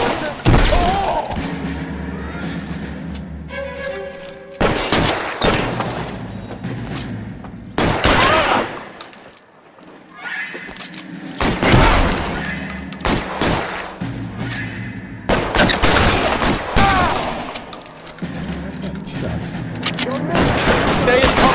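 Bursts of gunfire during a bank shootout in L.A. Noire, arriving in loud separated volleys with lulls in between, mixed with character voices.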